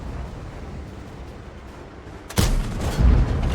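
The K-2 heavy tank's cannon in Mir Tankov fires once, a sudden loud boom after quiet rumbling, then a second heavy blast rolls in shortly after.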